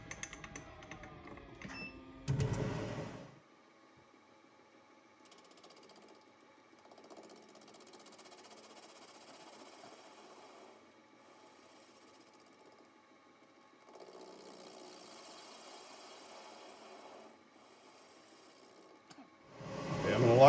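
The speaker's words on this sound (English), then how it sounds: "I'm going to face these 2 sides and try to get them exactly the same width." A metal lathe faces the two sides of hit-and-miss engine bearings, a low steady machining hum with a faint cutting whir that rises briefly around the middle, framed by louder handling clatter at the start and end.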